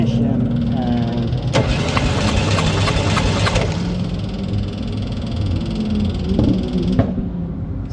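A car engine cranks over with a compression tester fitted after an adjuster change, a steady grinding starter churn running for a couple of seconds, then settling back under a voice talking nearby.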